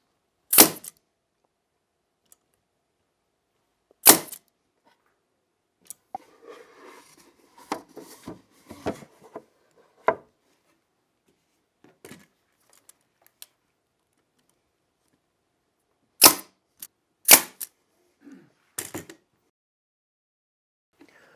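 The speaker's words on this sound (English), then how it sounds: "Now we're going to go back and shoot a few nails in each of the dovetails." A nail gun fires into the dovetail joints of a kitchen cabinet box: sharp, loud single cracks spaced a few seconds apart, with a pair near the end, separated by quieter handling knocks and rustles in a near-silent room.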